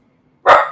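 A single short, loud dog bark rings out close by after a moment of near silence, with a brief fading tail.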